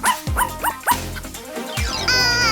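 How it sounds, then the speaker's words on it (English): A corgi barks in a quick series of short, sharp yips up close, followed by a higher whining, whimpering tone at the end. "What a sweet doggy. I love corgis."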